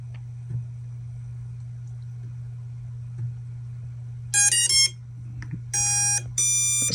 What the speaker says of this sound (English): we get a couple of startup beeps instead of the da-da-da-da-da